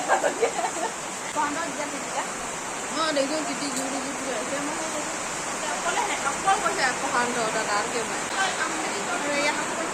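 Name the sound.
heavy rain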